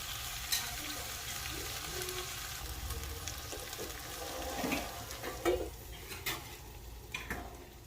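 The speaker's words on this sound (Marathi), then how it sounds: "आता आपण पुन्हा झाकण ठेवणार आहोत आणि भेंडी आहे ती शिजवून घेणार आहोत" Stuffed okra (bharleli bhendi) frying under a lid in a pan, a soft continuous sizzle with scattered small pops and a few light clinks of utensils, no talking.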